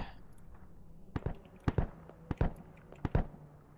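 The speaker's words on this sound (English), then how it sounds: "Just dropping bombs up there at this point." Bombs exploding in the military video game Arma 3, a run of sharp booming blasts in irregular pairs, moderately distant and punchy, over a low background hum.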